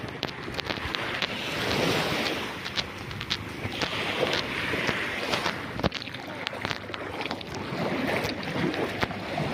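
Steady wind and breaking waves fill a seashore beside a boat, a continuous rough rush with gusty microphone buffeting throughout.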